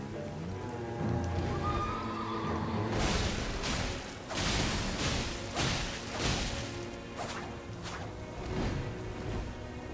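A horse in Elden Ring neighs and whinnies several times over hoof clops, whooshes and impact crashes from in-game combat, all dense and close with no talking.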